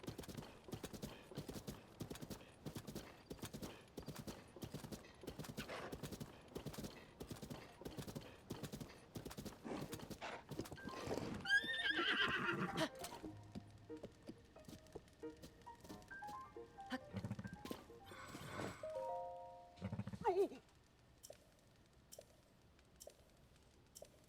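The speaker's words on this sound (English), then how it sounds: "The horse that whinnied to me in my dreams" Horse hooves clip-clopping steadily in Zelda: Tears of the Kingdom, a fast even rhythm of sharp hits for about half the stretch, then scattered game sounds and a brief whinny toward the end, with no talk.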